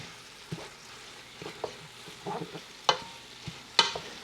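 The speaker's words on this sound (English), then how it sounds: "Give a nice good stir." A spoon stirs collard greens in a pot, giving soft scraping and rustling taps at irregular moments over a faint background hiss, quiet and close.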